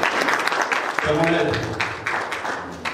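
Clapping from the audience at a religious leaders' training workshop greets the secretary general of the Félix Houphouët-Boigny Foundation, scattered claps running under a voice speaking French.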